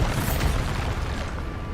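A Bombarda spell blast in a video game erupts as a loud, continuous low rumbling boom that fills the whole moment without letting up.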